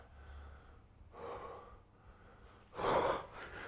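Heavy breathing between goblet squat reps in a weightlifting workout: two loud, rough breaths, a softer one around the middle and a stronger gasp near the end, with no talking.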